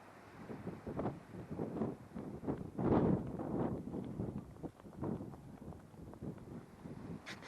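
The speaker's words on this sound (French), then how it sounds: "Il y a un petit peu de vent, j'espère que ça fera pas trop de bruit" Gusts of beach wind buffet a lapel microphone clipped to a person running along the shore, producing irregular low rumbling bursts that rise and fall throughout.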